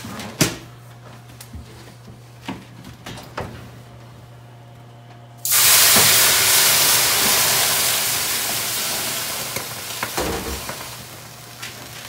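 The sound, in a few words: water poured into hot metal pan in oven, steam hissing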